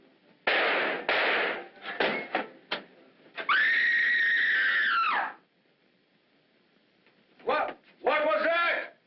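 A woman's scream in a 1945 film noir mystery, a long sustained high cry between sharp bangs and bursts of vocal sound, followed by another agitated shriek near the end.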